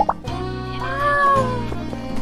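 A cat in the farming game My Time At Sandrock gives a short, clear, close meow that rises and falls, with a brief chirp just before it over quiet game music.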